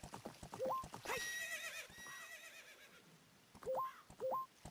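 A horse in the video game Zelda: Ocarina of Time, with a sharp whinny in the middle and short rising game tones and hoofbeat-like taps before and after, heard faintly and alone.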